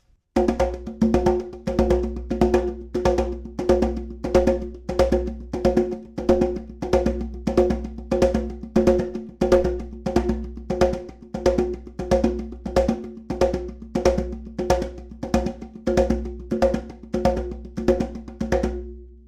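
A steady drum pattern repeats in groups of five beats, each hit sharp and evenly spaced, played alone at a constant tempo for nearly twenty seconds.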